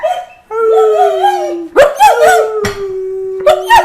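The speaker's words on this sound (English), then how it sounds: "Alright, there's my dog." A pet dog named Phoebe howls in a long, wavering, drawn-out cry, then breaks into a run of sharp barks and yips. The sound is close and loud, with no talking.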